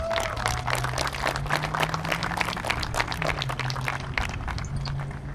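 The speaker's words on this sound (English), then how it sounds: "let's give them a round of applause" Outdoor crowd clapping at a college sports field during an alumni night honoring past players, sharp scattered claps over a busy background with a faint whistle-like tone, steady throughout.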